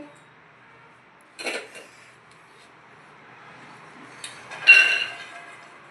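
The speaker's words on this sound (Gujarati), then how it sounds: "હવે આપણે કુકરમાં નાખી દીધા છે" Green pigeon peas tipped into a metal pressure cooker in a home kitchen, with two short clinking bursts of metal and peas near 1.5 and 4.7 seconds against a quiet background.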